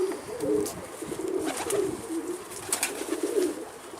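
Wild-type pigeon cooing in low, repeated rolling phrases close by, steady over several seconds with faint background noise.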